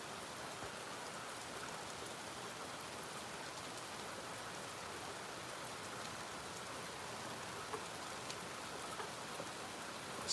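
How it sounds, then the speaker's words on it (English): Steady rain falls continuously for the whole stretch, a dense even hiss of drops on surfaces with no breaks and no voices. "Speaking of rain, we are getting much needed cooling off, says Iris."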